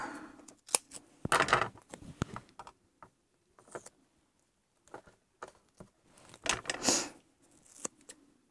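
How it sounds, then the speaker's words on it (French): Scissors snip close up in short bursts, several crisp cuts separated by quiet pauses, with faint rustling between them. "Ciseaux."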